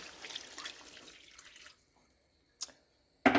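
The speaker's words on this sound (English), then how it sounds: "now we're going to add some beef broth" Beef broth pours into a hamburger and rice casserole with a steady liquid splash for under two seconds, then it falls quiet apart from a brief drip-like sound and a sharp clatter at the end.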